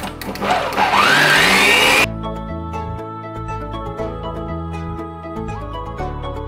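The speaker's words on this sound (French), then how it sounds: "en attendant faites battre vos blancs d'œufs très durs" An electric mixer whips egg whites to stiff peaks for a chocolate charlotte, giving a loud, high whirring buzz for about two seconds. It then cuts to steady background music.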